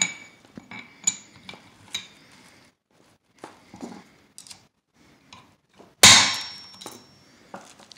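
Sharp metallic taps and clinks from knocking small pins out of both sides of a Phantom Grip differential locker during installation, a scattered series of light hits followed by one louder, ringing strike near the end.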